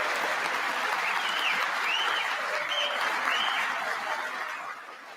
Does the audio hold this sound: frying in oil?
no